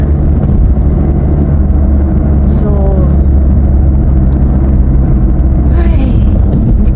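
A truck passes on a road in the Philippines, a loud, constant engine rumble and road roar filling the whole stretch, with brief higher noises near the middle and end.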